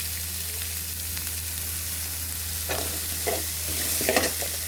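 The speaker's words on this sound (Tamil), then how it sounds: "இந்த வெங்காயத்தை போட்டு நல்லா வதக்கணும்." Onion and carrot sautéing in a pan for vegetable biryani, with steady low sizzling throughout and a few louder stirring scrapes near the end, no talk.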